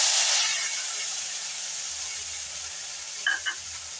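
Three tomatoes sizzle in hot oil in a pan, giving a steady close frying hiss that fades slightly over time, with a couple of faint clinks near the end.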